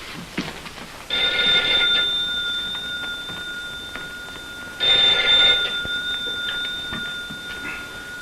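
An old-style telephone bell rings in a 1959 Philip Marlowe radio drama, two loud, close, shrill jangling bursts a few seconds apart with quieter background between.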